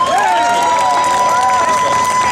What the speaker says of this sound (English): Folks, let's give him a round of applause